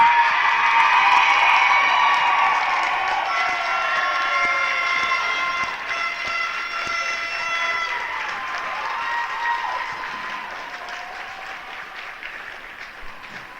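Hockey crowd at the end of a Novice B tournament semi-final cheers and applauds loudly, with whoops over a steady roar of clapping that fades slowly over about thirteen seconds.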